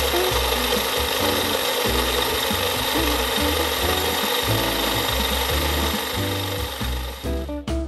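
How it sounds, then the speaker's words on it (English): A food processor chops garlic cloves in a short run, giving a rough, rattling mechanical whir with uneven chunky pulses. It stays close and steady, then winds down abruptly at the end, with no voices. "Place the lid on the food processor and begin to chop the garlic for a few seconds."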